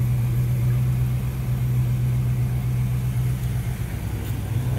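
A 1971 Plymouth GTX idles with a steady, low, even rumble after a warped right-side exhaust manifold was fixed, droning close and unbroken with no voices over it.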